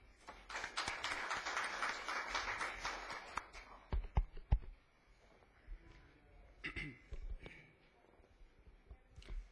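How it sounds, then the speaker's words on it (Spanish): An audience at a conference on arbitrary dismissal gives about three seconds of steady applause that fades out, followed by scattered taps, knocks and a few voices in the room. "cual pido por favor un fuerte aplauso"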